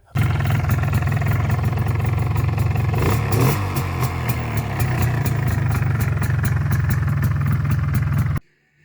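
A two-stroke MZ ETZ 250 motorcycle engine idles steadily nearby with a loud, even low rumble and a faint mechanical rattle, a brief dip in the middle, then cuts off near the end.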